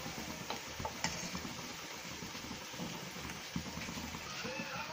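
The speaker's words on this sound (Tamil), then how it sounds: "தேங்காய் பேஸ்ட் சேர்த்துட்டு அதே மாதிரி 5 நிமிஷம் நல்லா வதக்கிக்கோங்க" Coconut paste sautéing in a pan with ginger-garlic paste for a Chettinad mutton curry gives off a quiet, steady sizzle with faint scraping stirs and occasional soft clicks, while a voice talks lightly in the background.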